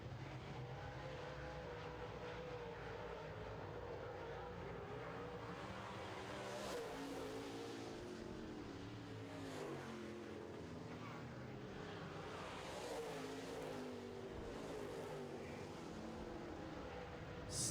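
Late model race cars roar around a track during a heat race, a continuous distant engine drone that swells and fades as cars pass, with no clear talk over it.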